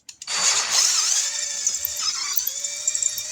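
A drill bit spins up and grinds into the side of a metal carburetor, a high whining buzz that starts abruptly and holds steady for a few seconds with slight dips in pitch as it bites.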